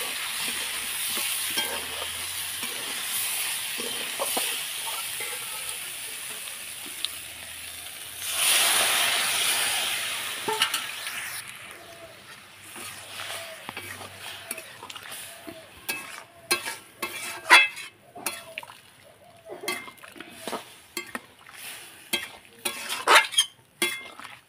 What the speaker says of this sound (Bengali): তো দেখো, পুরো টকবক করে ফুটে গেছে এটা।